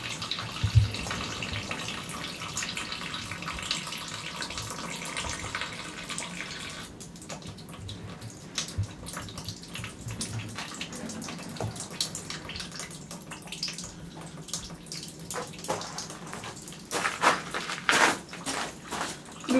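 Freshly pressed apple juice trickles from a cider press into a sterilised bucket, a steady close splashing stream with drips running throughout and a few louder spatters toward the end.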